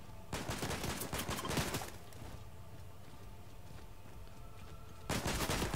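Gunfire in the Fortnite video game: a loud burst of rapid shots, then a quieter stretch of steady game background, then another sharp burst at the end.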